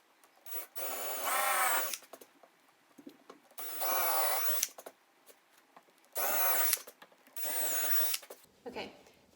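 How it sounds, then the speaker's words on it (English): A power drill pre-drills screw holes in wood for hairpin table legs, whining in four separate bursts of about a second each with short quiet pauses between them, close and clear. "Go ahead and pre-drill."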